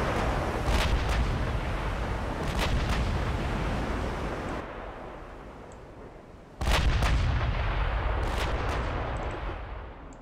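Battleship main guns boom in rapid broadside salvos in the naval warfare game Ultimate Admiral: Dreadnoughts, loud and continuous with rumbling blasts, a brief lull, then another heavy barrage.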